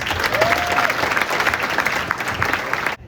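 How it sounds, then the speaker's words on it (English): A crowd at a high school boys' soccer banquet applauds loudly and steadily, dense clapping that continues throughout before cutting off abruptly at the end. "Big round of applause, please."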